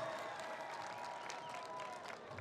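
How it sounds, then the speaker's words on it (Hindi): A crowd at a public event in Rampur Baghelan applauds to welcome an MLA, a soft, continuous patter of clapping heard from a distance with faint crowd murmur. "एक बार जोरदार तालियां"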